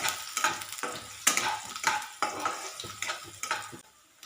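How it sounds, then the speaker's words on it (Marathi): Garlic and ginger fry in a pan as they are stirred, with a bright sizzle and repeated scraping and clinking of a utensil against the pan. "तर लसूण घालून घेऊया आणि सोबत आलं देखील घालायचं आहे तर आलं देखील घालूया हे छान भाजून घ्यायचं"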